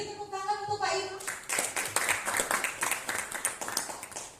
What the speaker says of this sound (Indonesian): Beri tepuk tangan untuk Pak Imam